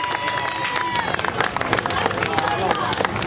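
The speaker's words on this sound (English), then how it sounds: "Come on, a round of applause for these stars." A crowd at a carnival claps and cheers loudly and continuously, with busy hubbub and voices mixed into the applause.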